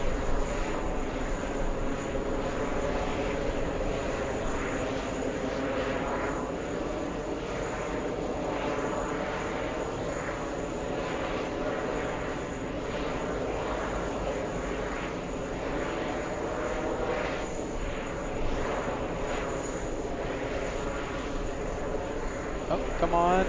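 MEA Flight 1 airliner from Beirut, heard as a steady, moderately loud aircraft engine drone lasting throughout, with someone talking over it much of the time.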